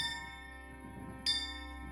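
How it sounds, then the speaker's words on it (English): A bell mounted on a wall is struck in a video game, giving two ringing tones, the first fading and a second clear strike about a second later that rings on, with no talk. "Oh, this bell. This bell right here on the wall."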